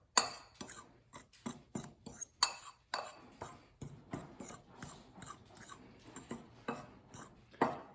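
A fork scraping and clicking against a bowl while dough ingredients for cinnamon rolls are mixed, quick, irregular close taps and rattles with quiet gaps between them.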